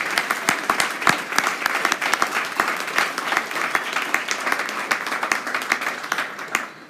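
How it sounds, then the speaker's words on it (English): Audience applause at a live book celebration event, a full, steady burst of many hands clapping with crisp individual claps standing out, close and loud, with little talk. "won't you please just join me in applauding her?"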